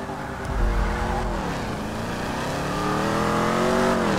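A car in the video game GTA V skids without braking, its engine revving steadily with rising and falling pitch under a faint hiss of tyre noise.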